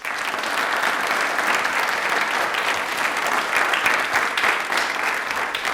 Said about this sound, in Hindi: पहले एक बार तालियां बजाइए जोरदार।